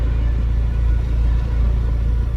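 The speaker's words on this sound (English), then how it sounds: "So it's idling at the moment." A Vauxhall Astra 1.7 TDCi diesel engine idling during a stalling and surging fault check, a loud, steady low rumble heard close up with no talk over it.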